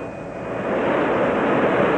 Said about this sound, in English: the engines were operated in the airplane